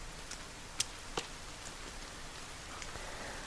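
Steady light rain falling in a forest, a soft continuous patter with a few sharper drop ticks standing out, fairly faint and without voices.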